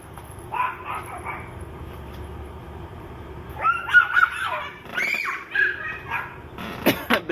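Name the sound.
dog barking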